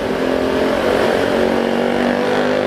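A noisy motor vehicle passes close by on an Indonesian road, heard from a riding motorcyclist's position as a loud, steady engine drone with rumbling low end, no talk over it.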